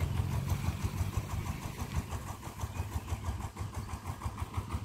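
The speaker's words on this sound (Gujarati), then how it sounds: "અને હું અહીંયા ટ્રેક્ટર હાકું છું" A 13-horsepower VST Shakti tractor works a pearl millet field, its engine running steadily throughout with a loud, low, rhythmic chugging and no voices over it.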